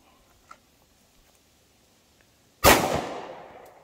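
A single sharp 9mm pistol shot cracks loudly at an outdoor shooting range, fired at a 10-yard target, then rings out in a fading tail after near silence.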